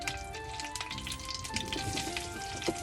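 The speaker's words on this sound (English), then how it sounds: "That popping you hear in the background is some butter that I'm going to pan sear some" Butter heating in a pan for searing beef, a quiet, irregular crackle of small pops and sizzles against a soft kitchen background.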